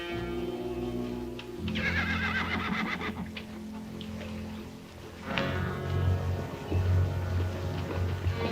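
Horses neigh and whinny loudly several times over a rumbling background, with scattered hoof clip-clops mixed in, close by and without speech.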